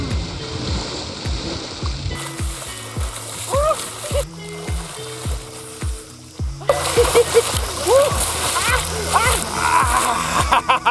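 A swimmer splashes into seawater at a rocky shore, with broadband splashing and sloshing that grows louder and busier in the second half, while voices and pitched vocal sounds carry over it.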